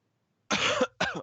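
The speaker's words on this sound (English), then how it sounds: "I don't mean to cough in the mic" A single harsh cough right into a microphone, close and loud, followed by a shorter second cough burst, with no talking.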